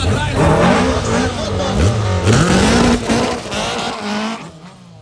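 Two vintage VW Beetles with 2.3-litre boxer engines launch in a quarter-mile drag race, engines roaring and revving loudly with rising pitch sweeps, one yellow and one silver, while a voice talks over the noise.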